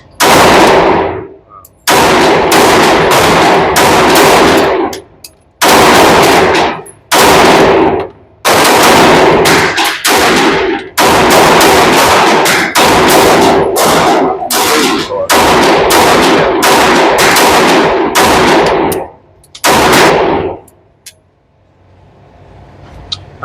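Rapid strings of pistol shots from a Smith & Wesson M&P Metal Carry Comp and a Sig P365 AXG at a shooting range, loud and close, fired in several long bursts with short pauses between strings.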